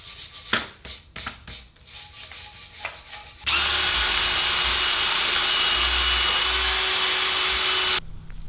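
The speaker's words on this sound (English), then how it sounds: "we're going to wire brush these things up as much as we can with this to get the big stuff off" Wire brush grinding steadily against rusty car control arms, a loud continuous abrasive whir running for several seconds after some scraping and knocking.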